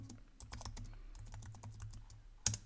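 Quiet, close typing on a computer keyboard: an irregular run of light clicking keystrokes for a few seconds, ending with one sharper tap.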